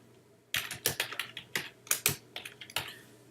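Typing Arduino code on a computer keyboard, a quick run of about a dozen crisp, close keystrokes in an uneven rhythm after a moment of quiet, with no talk.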